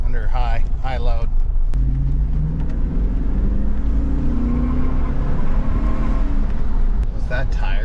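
An LS V8-powered car accelerating hard under high load, its engine note rising and droning loudly for several seconds, with people talking over it at the start and end.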